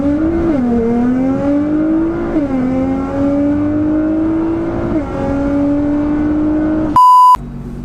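Nissan GTR tuned to 660 bhp pulling hard without launch control, a loud, close engine note climbing through three or four gear changes with brief dips, then a short sharp electronic beep near the end.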